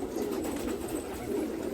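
Pigeons in a Nashik loft keep up a close, even cooing chorus, several birds murmuring over one another in a low, unbroken hum.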